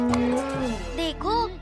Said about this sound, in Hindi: जरा इस भैंसनिया को तो बांध दें